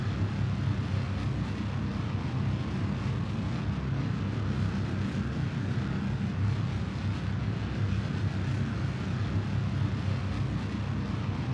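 Rocket engine in Kerbal Space Program throttling up, a steady, dense, rumbling roar that holds at a constant loudness for the whole stretch with no voice over it.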